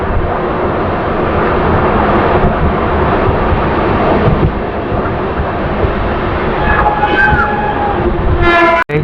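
The Rockfort SF Express superfast train on the Chennai to Tiruchirappalli line, heard from on board: a loud, continuous rumble of wheels on rails, with a horn sounding near the end.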